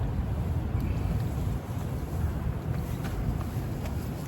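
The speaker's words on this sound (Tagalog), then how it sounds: "Ang lamig ang hangin. Maingay yung alon, yung dagat." Cold wind buffets the microphone at a beach campsite in Old Bar, Australia, with a low, continuous rumble of noisy sea waves beneath it, steady throughout and free of speech.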